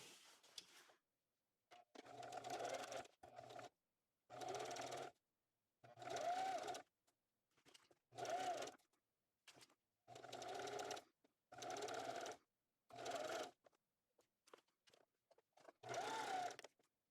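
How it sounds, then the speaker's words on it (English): A domestic sewing machine stitching a tote bag seam with a quarter-inch allowance, running in about nine short, even bursts separated by brief pauses, close and clear in a quiet room. "so now I'm going to sew using a 1/4 inch seam allowance."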